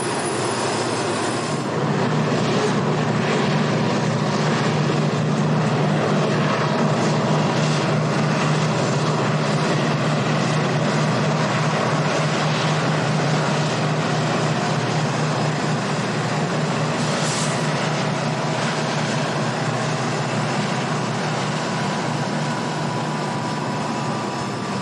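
A long freight train with distributed power locomotives in the middle and at the rear rumbles past, a steady loud mechanical drone with a low engine hum and continuous rolling noise that barely changes throughout.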